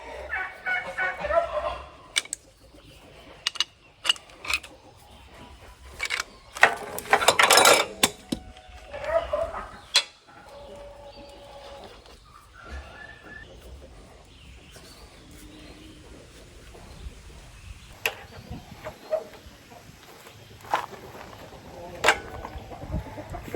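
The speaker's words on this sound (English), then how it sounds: "These geese like to get out and graze. I don't have the donkeys in this bottom pasture right now, so you eating yesterday's supper still? I think what I'll do, they keep cackling" Geese cackle and honk in a farm pasture, loud irregular bursts near and far over a faint mechanical background, with occasional quiet speech.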